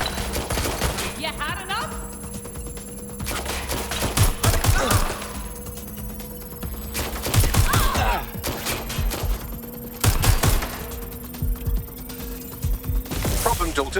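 Gunfire in the video game Watch Dogs: Legion: repeated bursts of rapid automatic shots with a constant mechanical hum beneath, the bursts separated by short lulls, and a voice briefly speaks over the action.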